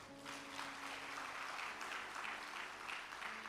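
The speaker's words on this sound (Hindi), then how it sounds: "10 सेकंड लेट बजानी थी ताली आपको" An audience at a live Bhaktipath devotional session in Kenya claps steadily. The applause is faint and distant, with a soft, continuous patter.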